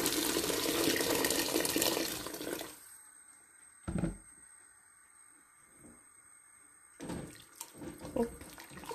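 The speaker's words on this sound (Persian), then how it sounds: "آب جوش رو می کنیم." Boiling water pours steadily into a pot while Afghan pasta is being made, a loud rushing stream for about three seconds that then stops, followed by a few soft clunks and a short splash.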